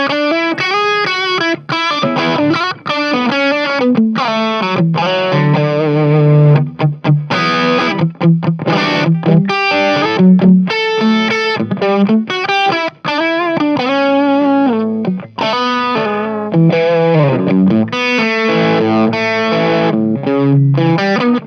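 Electric guitar through stacked hard-gain distortion, played via a JOYO JW-02S wireless system: a dense, continuous stream of loud, saturated riffs and chords with brief gaps, close and filling the clip, no voices.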